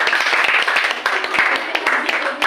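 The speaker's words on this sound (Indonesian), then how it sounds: "Kita kasih tepuk tangan untuk kelompok 1." A classroom of students claps for a presenting group, a dense, steady burst of many hands applauding together close by, with some voices mixed in.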